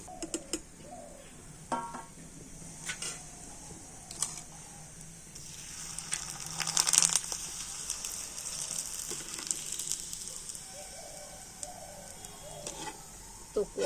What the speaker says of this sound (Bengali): তো কত সুন্দর পিঠেগুলো ভাজা হচ্ছে দেখুন।